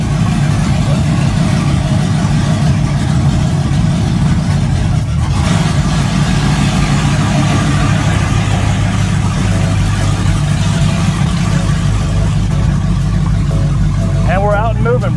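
LS-swapped Jeep Grand Wagoneer V8 holding a steady, close, loud idle with a few mild revs and a pitch change, with someone talking over the engine throughout.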